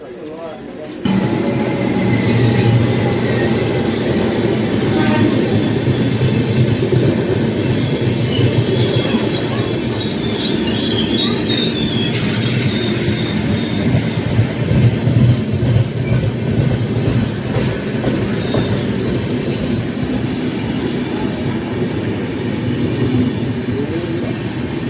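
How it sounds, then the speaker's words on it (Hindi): Konark Express train, running between CSMT and Bhuvaneswar, passes close by with a loud continuous rumble of wheels clattering on rails and occasional squeals, heard from a moving train near Charlapalli, Hyderabad. "ये कोणार्क एक्सप्रेस है जो सीएसएमटी से भुवनेश्वर के बीच चलती है।"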